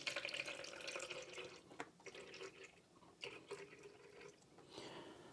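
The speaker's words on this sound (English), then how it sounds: "Okay, let's fill it with some water" Water trickles and drips into the tank of a Moolan steam mop, a faint, uneven pouring with small splashes and pauses, heard close and quiet.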